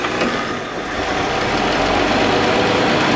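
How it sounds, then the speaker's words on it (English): A 1962 Dodge D300 truck engine runs with its idle turned up, a steady, loud, close mechanical rumble with faint knocking that holds evenly throughout. "let's see how it does with the idle turned up."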